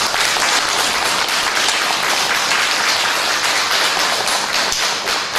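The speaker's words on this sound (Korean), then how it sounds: "UPA 생도들에게 다시 한번 큰 격려의 박수를 보내주시기 바랍니다." Sustained applause from a church congregation at a Sunday service honouring graduates, a dense, steady wash of many hands clapping at even loudness throughout, with no voices on top.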